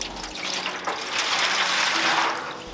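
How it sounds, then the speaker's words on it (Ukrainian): Half a litre of water poured into a container inside an oven before roasting a Peking-style duck: a continuous splashing, gurgling stream that swells in the middle and stays close and fairly loud, with no talking. "У контейнер наливаємо пів літри води"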